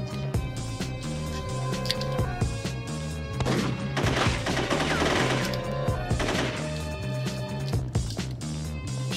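Gunfire crackles in a police shootout in The Getaway: Black Monday on PS2, rapid repeated shots at moderate distance over a steady game soundscape, with no talk.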